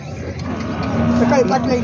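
A water buffalo lows in a long, drawn-out moo at a buffalo market in Vasmat, close and fairly loud, with a steady low hum and faint background noise.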